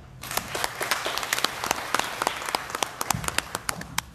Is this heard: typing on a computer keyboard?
no